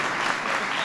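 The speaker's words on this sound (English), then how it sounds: "So give Robbie a big round of applause." A crowd claps steadily, a dense wash of applause that holds at an even level from start to finish.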